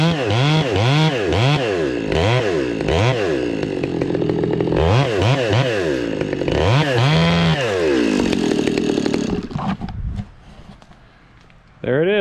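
Chainsaw felling a small back-leaning fir, the engine revving loud and close in repeated rising-and-falling bursts for about ten seconds before dropping to a quiet idle near the end.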